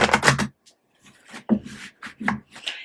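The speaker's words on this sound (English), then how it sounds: "One more shuffle for you, fire signs." Tarot cards shuffled by hand in a quick riffle burst, then a few softer scattered rustles and taps of the deck, close and alone.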